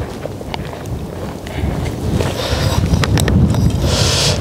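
Wind gusting across an open hillside among houses in Ulan-Ude, a steady broadband rush that strengthens midway and stays loud to the end, with a few faint knocks from walking on the slope.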